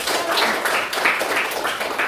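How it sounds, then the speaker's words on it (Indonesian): Classmates applaud a student named Helen in a classroom, a dense, steady patter of many hands clapping at close range for about two seconds with no pauses. "tepuk tangan buat Helen"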